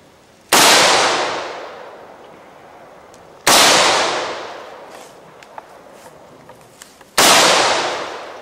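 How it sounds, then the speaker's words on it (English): Three loud, sharp gunshots fired at close range into a computer hard drive, each a sudden crack with a long decaying ring, spaced about three seconds apart, with faint small clicks between them. "Keep shooting. It's not smoking yet."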